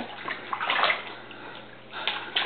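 A small child splashes water in a bath, with close sloshing and lapping that swells and fades in uneven bursts.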